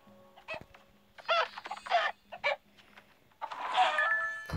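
A game chicken in Minecraft Earth clucks in a run of short, close calls, some choppy and some longer and squawkier, with a low hum underneath and no speech.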